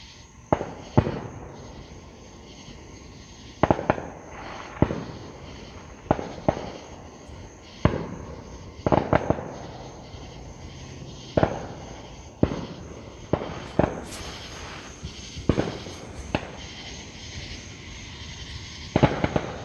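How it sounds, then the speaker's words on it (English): Fireworks go off outdoors in February, about twenty sharp cracking bangs at irregular intervals, some with lingering crackle between them. The bursts sound fairly near and loud, and no one speaks. "You can hear the fireworks going off around us."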